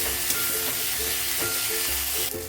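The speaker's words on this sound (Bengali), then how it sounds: "তো এখন আমি কুচনো টমেটো অ্যাড করে দিলাম, দিয়ে টমেটোটাও আমি কষিয়ে নেবো ভালো করে" Chopped tomatoes frying with onions in a pan, a steady broad sizzle running throughout with faint periodic stirring scrapes, close and continuous.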